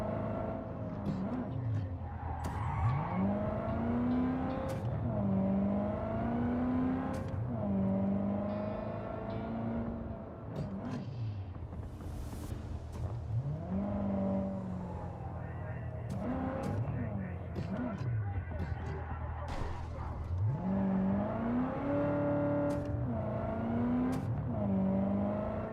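Car engine in Cyberpunk 2077, droning throughout and repeatedly climbing in pitch as the car accelerates and shifts, loud and steady, with talking over it.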